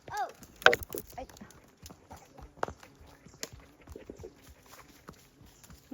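Pony hooves clop along outdoors in a loose walking rhythm, a few sharper knocks among softer scuffs, with brief exclamations and bits of talk from people nearby.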